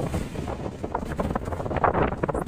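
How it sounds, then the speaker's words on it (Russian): Strong wind buffets the microphone in a continuous, rumbling roar with gusty surges, with no voices. "Очень сильный ветер."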